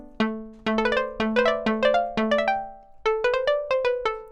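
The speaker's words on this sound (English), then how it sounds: "now this sounds really plucky to me, like a real Plucked instrument, maybe a futuristic koto or something." A synthesizer plucked patch with a koto-like, futuristic tone plays a quick melodic run of about fifteen sharp plucked notes. Each note attacks and decays fast, and a brief pause comes before the last phrase, heard clearly and alone.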